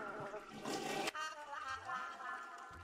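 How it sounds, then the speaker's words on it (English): A toilet flushing in The Sims video game, a rushing, gurgling gush of water with a sharp click partway through, followed by softer sloshing and bubbling. "Flushing it broke the toilet."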